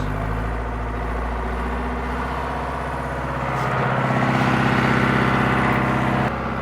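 A tractor engine idles, then rises in revs as its PTO engages to drive a slurry pump, a close, loud, steady mechanical drone with a throbbing pulse that thickens midway.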